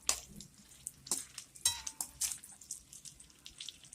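Small dried anchovies fry in a pan in bursts of crackling spatter and stirring scrapes, loud and close, separated by quieter stretches of low sizzle, with no voices.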